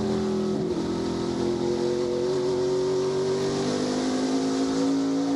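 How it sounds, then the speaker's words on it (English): Stock race car on an ARCA Menards Series short oval at Berlin Raceway, engine droning steadily as it exits turn 4 with the throttle feathered, rising and wavering in pitch, loud and continuous with no talk. "Let's listen in. Watch how he feathers his throttle. Listen, coming off the turn 4."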